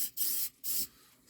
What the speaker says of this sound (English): I spray a little bit on the cabin filter, a tiny bit.